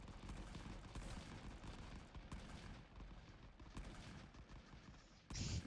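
Dense, continuous gunfire and explosions from a WWI trench battle in the video game Rising Front, a steady roar of overlapping shots with a louder burst near the end, no talking.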